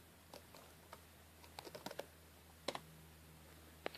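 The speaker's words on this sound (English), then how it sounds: "we just type net user." Sparse, quiet keystrokes on a computer keyboard as a short command is typed, scattered clicks coming in a few quick clusters over a faint background hum.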